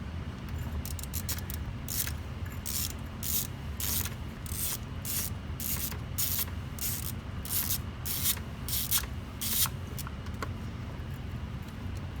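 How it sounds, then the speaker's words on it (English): Ratchet wrench working a bolt loose on a BMW E30 M42 engine during water pump and thermostat housing work, a steady series of quick clicking bursts, close up, with no talking. "I gotta finish taking this bolt out here."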